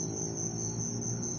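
Crickets raised on a cricket farm chirp in a dense, continuous high trill, steady and fairly close, with no voices.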